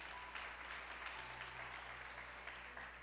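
Church congregation claps together in a dense, sustained round of applause, heard at moderate distance over a low steady hum.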